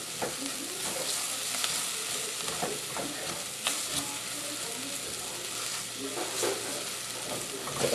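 A spice and fresh herb masala paste caramelizes in a pan for curry vegetables, giving a low steady sizzle with frequent soft scrapes and taps of a spoon stirring through it, close and fairly quiet.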